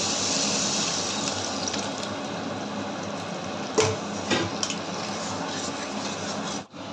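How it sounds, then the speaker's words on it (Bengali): Water pours steadily into a pot of sour mango dal, a continuous rushing splash that fades out near the end, with a couple of brief clinks partway through. "টক ডাল একটু পাতলা খেতে হয়, তাই আমি জল দিয়ে দেবো"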